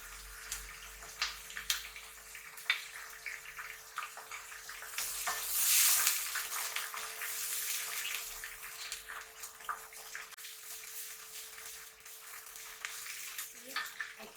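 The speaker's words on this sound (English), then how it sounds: "I can cook two at one time, frying the chicken and the sambal." Chicken and chili sambal with onion and salt fry together in a pan for nasi lemak, giving a steady crackling sizzle that swells louder midway, then settles back to a constant hiss.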